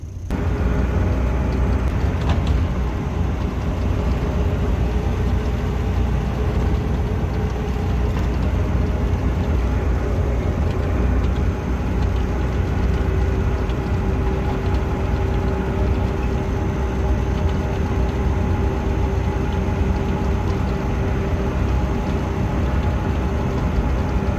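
A VW Golf MK1 under restoration driving home on the road, heard from inside as a steady, loud low engine drone and road rumble that holds evenly throughout, no voices.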